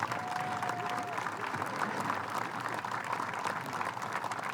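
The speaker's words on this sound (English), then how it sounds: "Let's give them a round of applause." An audience at an Atlantic City 9/11 memorial ceremony applauds people who served the country, a continuous, moderately distant patter of many hands clapping, with a faint steady tone near the start.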